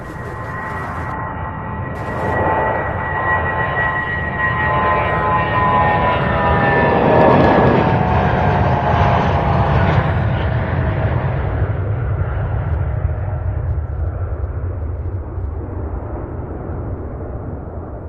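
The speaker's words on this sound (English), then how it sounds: "That MD-11 that's taxiing heading to Dallas, Fort Worth." An MD-11 airliner taxiing at Louisville International Airport, its engines a loud steady roar with a whining tone that slowly falls and thins over the stretch, alone with no voices.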